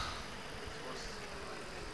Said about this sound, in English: This tractor's going to need some massive repairs.